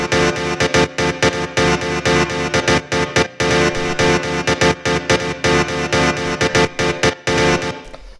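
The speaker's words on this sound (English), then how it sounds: "The first sound here is the stab," Synth stab in a minimal tech house track, repeating in a steady bouncy rhythm of short, bright, punchy hits with brief gaps, loud and up front with no voice over it.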